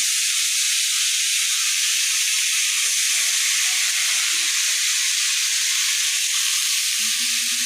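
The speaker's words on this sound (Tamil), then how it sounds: "முதல்ல எண்ணெய் ஊற்றிட்டு காலெண்ணெய் போட்டு வதக்கி எடுத்துக்கணும்" Mushrooms frying in hot oil for a gravy give off a steady, bright sizzle and hiss that carries on unbroken, close and fairly loud, with a few faint clinks of cookware underneath.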